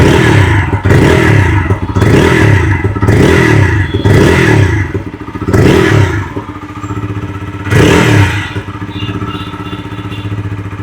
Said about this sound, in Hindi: लेते हैं इस बाइक की एग्जॉस्ट नोट